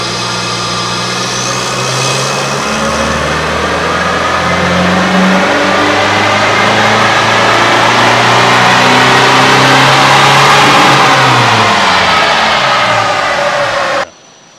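A stock Holden RC Colorado four-cylinder engine revving on a dyno, a loud sustained run whose pitch climbs steadily through the gears before cutting off abruptly near the end, with no voices.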